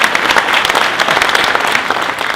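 An audience at a Corvette Racing team seminar claps loudly and steadily for a new logo, a dense burst of applause that carries on throughout.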